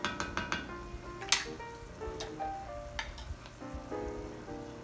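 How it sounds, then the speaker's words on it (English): Onions and beef frying in a pan with a steady sizzle, broken by a few clinks and scrapes as they are stirred together, close and moderately loud with no talking. "At this point, I'm going to mix the onions in with the meat."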